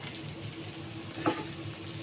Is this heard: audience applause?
no